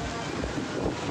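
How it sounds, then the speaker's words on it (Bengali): Strong wind beside the Ganges during a storm buffets the open air in a steady, roaring rush that fills the whole moment without a break. "বাবা কি হাওয়া!"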